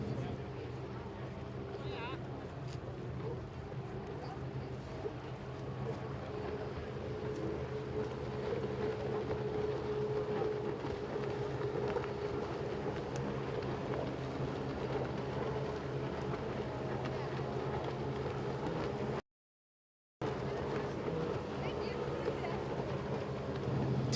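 Stock 1500 jet skis race across the water at a Windsor round, a steady continuous engine drone held at mid distance under ongoing race commentary, with one brief dropout near the end.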